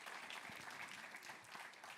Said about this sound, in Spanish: Dense un aplauso a todos ustedes.